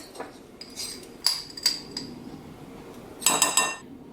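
A metal utensil stirs dry baking ingredients of salt, cinnamon and allspice in a bowl, giving a few sharp clinks and scrapes in two quick bursts, close and fairly quiet with no talk.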